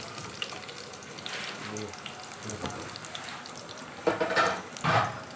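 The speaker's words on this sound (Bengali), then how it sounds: "তেল না দিয়ে তো আর মানে রসুনটা ভাজা যায় না" Garlic frying in a very small amount of oil, a soft continuous crackling sizzle close by, with a couple of louder spattering bursts toward the end and faint talk in the background.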